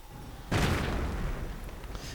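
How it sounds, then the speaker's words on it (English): A single deep artillery blast thumps in a real-time strategy battle, a sudden broad boom followed by a rumbling decay lasting a couple of seconds. "And artillery getting called in once more."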